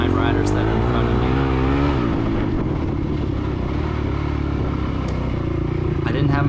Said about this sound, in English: I was in 3rd gear there, revved it up pretty high